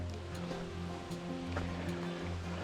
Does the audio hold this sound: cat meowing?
no